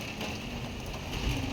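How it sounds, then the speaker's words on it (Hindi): Steady rain falls at night, a dense continuous patter on surfaces under a storm that is building. The sound is close and fairly loud, with no talking. "रात के टाइम बारिश का कितना पीसफुल इफ़ेक्ट आता है"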